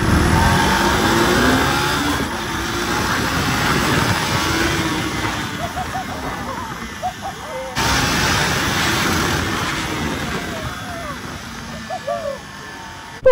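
A KTM Duke 390 motorcycle engine drones steadily while riding on a straight road, loud and close with wind rush, the pitch shifting as the throttle changes, and a voice speaks briefly over it.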